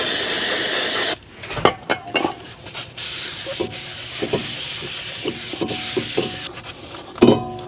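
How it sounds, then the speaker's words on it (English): A strong hiss of brake cleaner spray on a new brake rotor for a Lexus RX300 cuts off abruptly, followed by scattered handling clicks, rubs and taps close by. "it's important that we clean that off with some brake clean before we put this on"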